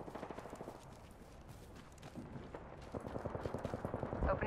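Gunfire in Apex Legends: rapid automatic bursts of shots, faint at first and then growing louder and denser toward the end.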